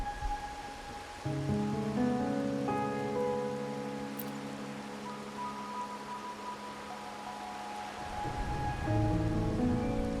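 Steady rain falls in the game Wuthering Waves as a soft continuous hiss behind sustained musical tones, fairly faint and unbroken throughout.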